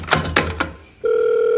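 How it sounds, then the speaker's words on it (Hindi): Telephone rings with a steady electronic tone starting after a few short knocks or thuds, loud and close, with no speech during the ring. "जल्दी फोन उठा।"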